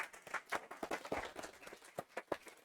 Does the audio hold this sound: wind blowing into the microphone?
no